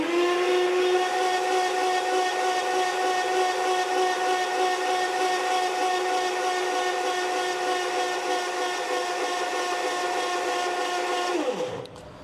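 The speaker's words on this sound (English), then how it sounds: "So all I need to do is push the starter button and wait until the oil pressure comes up on the gauges." A Sunbeam 1000hp V12 land speed car engine turns over on its starter while building oil pressure, a steady loud droning whine held for about eleven seconds before winding down abruptly, no talking.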